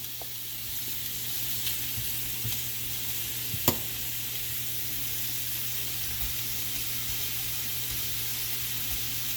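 Compound butter sizzles steadily in a hot pan for shrimp street tacos, a constant close hiss with one brief clink partway through.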